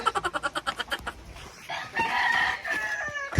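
A rooster clucks in a quick run of rhythmic bursts, then gives a long, loud crow close by, outdoors, with no talk.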